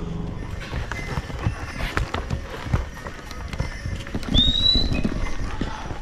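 Donkeys on a mountain trail in the Mera Peak region make irregular hoof clops and shuffles at close range, mixed with outdoor noise and a brief high squeak.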